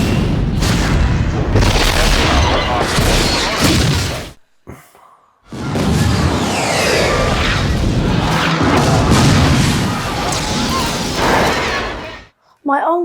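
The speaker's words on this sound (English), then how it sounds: "that was very, very well done explosion" A bomb blast on a launch pad in the 1997 film Contact hits as a loud, sustained roaring explosion with rumbling debris, cutting briefly to silence before a second long roar, with shouted voices underneath.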